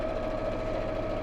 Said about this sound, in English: we'll just sew all the way around